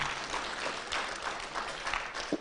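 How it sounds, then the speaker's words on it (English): Conference audience applause after a presentation at a regional policy conference, a steady, moderately loud round of clapping from a seated crowd, without voices. "Let's give Madam Beatrice a better clap."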